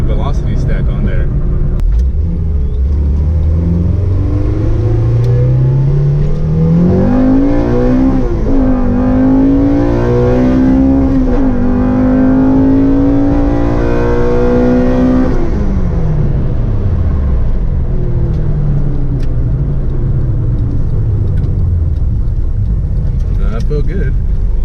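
A Honda EG hatchback with an H2B engine swap and a velocity stack intake, pulling hard through climbing revs with audible gear shifts, loud and close from inside the car, then easing off and settling into a lower drone.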